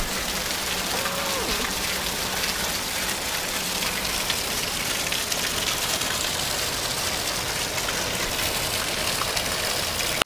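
A dense, continuous rush of falling water roars steadily with no breaks, loud and close, a waterfall in Khao Sok National Park, Thailand, during monsoon season, pouring without pause.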